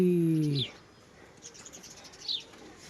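A voice speaks briefly, then two short, high chirps of a sparrow ring out a couple of seconds apart over quiet outdoor air.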